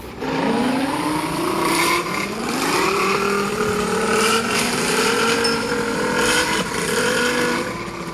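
A favourite motorcycle ridden along, its engine loud and close with revving that rises and falls in pitch through the whole stretch, with no talking.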